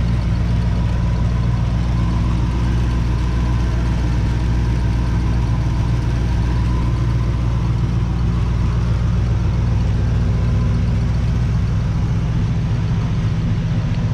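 A 1978 Chevrolet El Camino engine runs steadily after start-up, a loud, close, deep idle rumble that holds an even note throughout with no voices.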